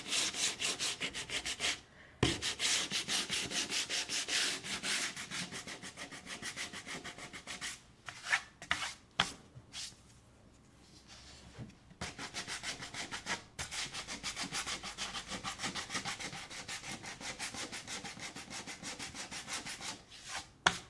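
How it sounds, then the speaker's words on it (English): Paper edges are distressed by rubbing, producing close, rapid scratchy strokes in steady bursts with a few short pauses, no talking. "So the distressing is going to be right along my edges."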